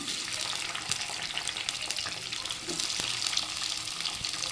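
Bitter gourd sautés in a pan with a continuous bright sizzle and crackle, fairly close and steady throughout, with faint stirring scrapes mixed in and no talking.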